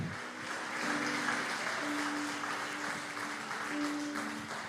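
Church congregation applauding in worship, a steady broadband wash of clapping throughout at moderate distance, with faint sustained tones from music beneath.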